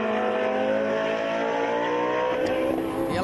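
Lamborghini GT race car pulling out of the pits during a GT Asia round, its engine a loud, steady roar that holds close throughout with a slight pitch change near the end.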